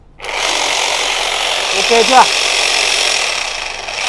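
A Makita power drill, an imported genuine unit fitted with an 18 mm bit, runs steadily in drill mode with a loud, continuous whine close by, while a person's voice briefly cuts in over it.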